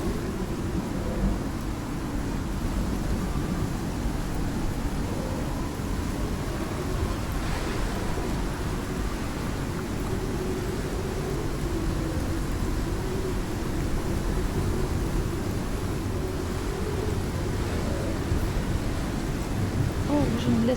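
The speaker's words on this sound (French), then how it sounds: "Ouh là là, ok, c'est une grosse tempête." A big storm in the survival video game Icarus, a steady, dense roar of wind and rain with low rumbling throughout, continuous and enveloping with no break.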